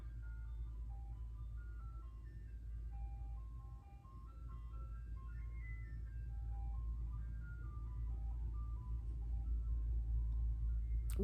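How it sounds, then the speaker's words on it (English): An ice cream truck's tinkling melody plays steadily over a low engine rumble as it passes along a street, fairly loud and continuous with no talking. "The ice cream truck is fucking me up."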